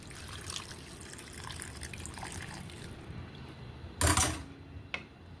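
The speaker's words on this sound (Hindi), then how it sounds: "फिर इसके अंदर 1/2 कप पानी डालना है" Half a cup of water is poured into a pot of mixed vegetables and masala, a low, steady background wash that ends in a short, louder splash near the close.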